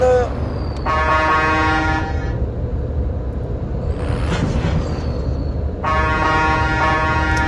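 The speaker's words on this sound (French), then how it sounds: "encore du klaxon, encore du klaxon" Two long, loud truck horn blasts in Call of Duty Mobile battle royale, each about a second, separated by a pause over constant engine rumble.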